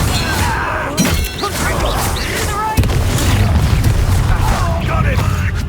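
Confringo fire-spell blasts in Hogwarts Legacy combat: loud booming impacts and crashing debris within dense battle noise, with voices shouting over the action.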